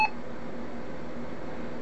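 Brother MFC-9320CW printer's beeper gives a single short, bright tone at the very start, then fades to a steady low hum of the machine.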